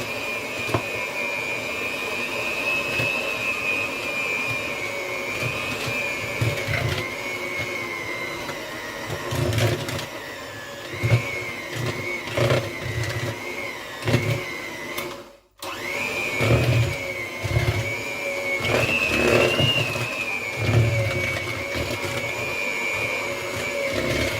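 An electric mixer runs steadily through chocolate chip cookie dough, a loud continuous motor whine with bumps and scraping in the bowl, briefly cutting out near the middle before starting again, with no talking.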